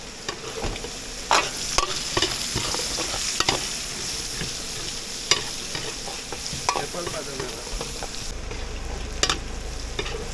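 Onions sautéing in a pan, a continuous sizzle broken by frequent sharp stirring clacks and scrapes, close and fairly loud, with no talking.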